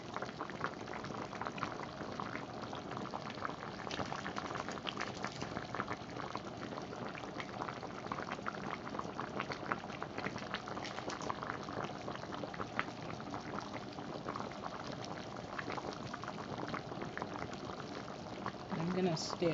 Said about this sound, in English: the soup have been cooking. Gonna let it cook some more.